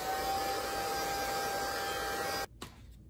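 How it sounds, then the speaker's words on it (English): A hair dryer blows on wet paint on a galaxy painting, a steady, loud, close whooshing hum that cuts off abruptly near the end, leaving faint handling noises. "I'm gonna put the hair dryer on and apply it to it"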